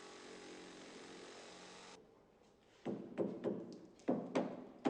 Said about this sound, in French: nous la découpons à la scie sauteuse.